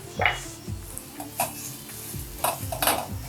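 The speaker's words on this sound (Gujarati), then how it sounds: "ઝીણી સુધારેલી કોથમીર એડ કરીશું અને બધું સ્ટફિંગ પ્રોપરલી મિક્સ કરી લઈશું." Potato stuffing with amchur powder and chopped coriander is mixed by hand-held utensil, giving a few close, intermittent scrapes and light clinks against the vessel.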